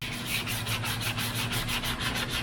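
Power sanding of guide-coated high-build primer on a Dodge crew cab body, a steady continuous abrasive rasp with a rhythmic pulsing swirl and a low motor hum underneath, close and alone.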